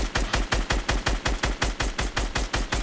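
Rapid automatic gunfire in the Fortnite video game, a steady rhythmic burst of about sixteen close, loud shots over roughly three seconds with no talk.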